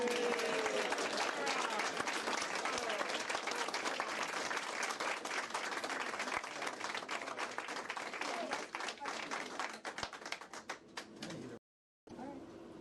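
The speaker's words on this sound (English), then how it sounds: "So let's give Eric and Cynthia a round of applause." A community awards audience applauds its winners with steady, dense clapping that keeps going, then thins out and drops to a short silence near the end, with a voice faintly audible under it.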